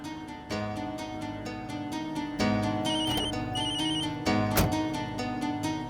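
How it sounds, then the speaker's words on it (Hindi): A telephone ringtone rings repeatedly in a steady melodic pattern, loud and close, with no talking. "तो घर से फोन है।"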